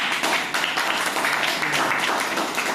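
A classroom full of students applauds together, dense continuous clapping that runs steadily throughout, loud and close with no pauses.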